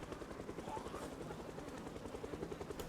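Many helicopters flying together in a vanilla base-game session, a faint, steady rotor thump with fast rhythmic pulsing throughout.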